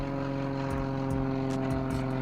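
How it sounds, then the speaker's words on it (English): A propeller airplane drones overhead at a steady, loud pitch with a faint whooshing shift, the only sound throughout. "That's an airplane."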